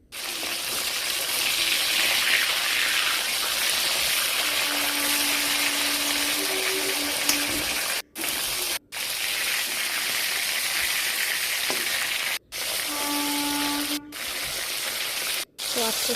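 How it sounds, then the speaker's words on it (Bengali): Small khoka hilsa fish frying in a pan, a steady loud sizzle and bubbling oil that runs continuously, with a few brief pauses. "তো আস্তে আস্তে মাছগুলোকে সব ভেজে নিচ্ছি।"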